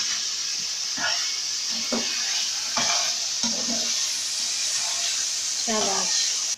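Fried garlic, ginger and green chillies are stirred in a pot for pulao, a steady hissing sizzle broken by rhythmic scraping strokes of a spoon, close by, with voices talking over it.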